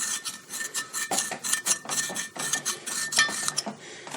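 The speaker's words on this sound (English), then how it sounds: "and I got a little small file" A small metal file deburring a hub bearing part rasps in quick, uneven strokes, about a dozen scraping pulses with metallic ring, close and fairly loud with no talk.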